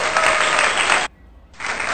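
Dense, loud crowd-style applause used as an edited sound effect, cutting off abruptly to near silence for half a second and then resuming just as strongly.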